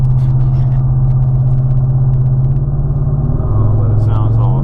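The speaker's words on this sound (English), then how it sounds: "The exhaust is kind of loud," A 2013 Ford F-150 fitted with a Roush kit puts out a loud, deep exhaust drone that holds steady and then shifts pitch as the engine note changes, with no voices.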